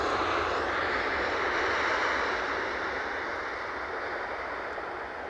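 A JetBlue airliner from Boston arrives at Edinburgh airport, its engines a broad, loud roar that fades slightly as it passes, with no talk.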